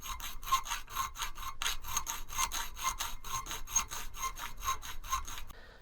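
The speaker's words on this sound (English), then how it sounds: "I shall now just go and file this into a nice oval shape" A hand file rasps back and forth, shaping an oval slot in a metal tank mount for a BSA Spitfire motorcycle, in steady, even strokes, close and continuous, with no other sound.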